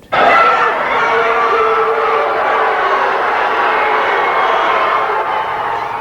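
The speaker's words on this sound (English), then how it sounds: "Just listen to this crowd." A crowd gathered outside a federal courthouse in Richmond, Virginia makes a sustained, loud roar of massed voices that holds steady from start to finish with no single voice standing out.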